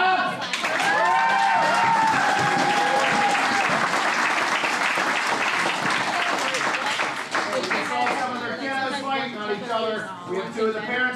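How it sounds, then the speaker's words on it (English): A crowd of spectators at a club MMA event bursts into sustained, loud applause with scattered cheers and whistles, filling the room for several seconds before the clapping thins out. "Everyone clap!"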